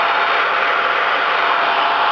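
A reference Radeon HD 7870 GHz Edition graphics card's blower fan runs at high speed, a loud, steady rushing hiss of air with no change throughout.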